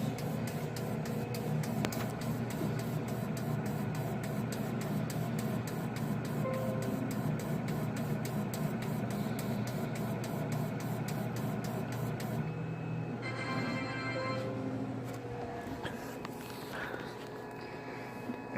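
Machine running steadily while printing and cutting guitar pickup bobbins, a continuous dense mechanical drone with a fast repetitive ticking pulse, shifting to a brief higher whirring stretch near the end.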